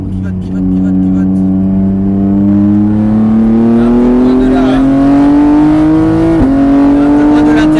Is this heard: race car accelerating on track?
yes